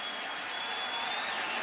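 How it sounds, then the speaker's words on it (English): A baseball crowd applauds and cheers steadily as the slugger steps up to bat, a broad sustained roar of clapping that holds level throughout, sounding distant as if heard through a radio broadcast. "And listen to the crowd greeting Judge as the big slugger steps in on the right side."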